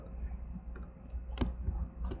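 Keyboard clicks while tabbing between fields in DB Browser for SQLite: a few sparse, sharp key taps over a low background hum, close and fairly quiet, with no talking.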